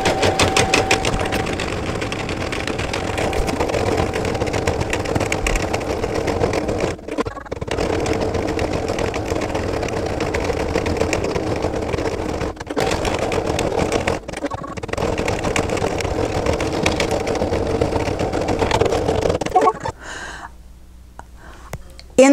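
An embroidery machine stitches a January in-the-hoop mug rug design, a steady, close mechanical whirring and rapid needle chatter that runs continuously with a few brief pauses before stopping near the end.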